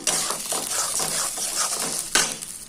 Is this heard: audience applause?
no